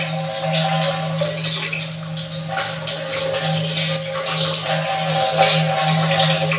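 Fruit being washed under a running tap in a home kitchen, a steady loud rush of water with faint splashing and no talking.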